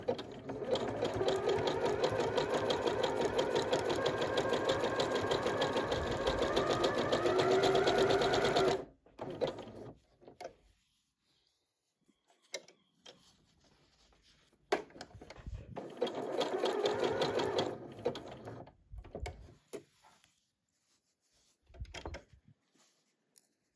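Sewing machine stitching fabric in a weaving, back-and-forth line to catch the edges, running steadily and close for several seconds, then stopping and restarting in a few shorter bursts with quiet pauses between.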